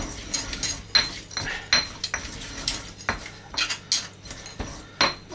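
Spoon grinding a spice mix in a bowl, scraping it off the sides, as a series of close metallic scrapes and clinks in an irregular rhythm, with no talk.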